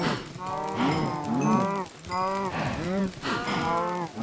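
Minecraft cows moo repeatedly in the video game, several drawn-out, close, loud lowing calls following one another with no pause, with no talk over them.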